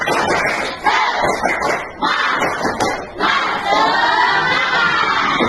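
A class of schoolchildren doing a spirit clap routine again, loud rhythmic clapping and thumps in grouped bursts under excited group shouting and chanting, close and lively throughout.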